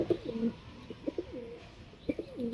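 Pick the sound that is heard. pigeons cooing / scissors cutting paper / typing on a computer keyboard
pigeons cooing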